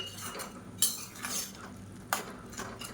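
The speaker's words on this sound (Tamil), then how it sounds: "இது எல்லாத்தையும் நல்லா கலந்து விட்டுக்கலாம்." Stirring a drumstick and brinjal curry with coconut paste in a pot: a few wet scrapes and clinks of a spoon against the metal pot, close and moderately loud, in short separate strokes.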